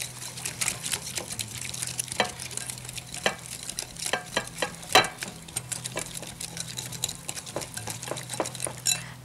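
Marinade for Thai steamed fish being mixed finely in a bowl, with quick, busy clinks and scrapes in an uneven rhythm over a low steady hum, loud and close.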